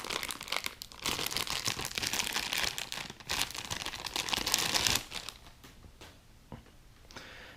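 Plastic packaging around a small XLR to 1/4-inch adapter is crinkled and torn open up close, with dense rustling that is busiest early and thins into sparse crackles toward the end, with no talking.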